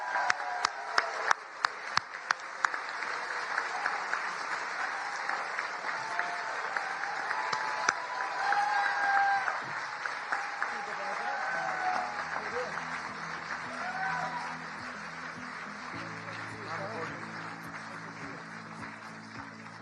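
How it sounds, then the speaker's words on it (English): An audience at the White House Correspondents' Dinner applauds an award winner, with sustained clapping from a large crowd in a hall. A voice speaks over the applause, and a low musical tone rises toward the end. "let's give him a big round of applause"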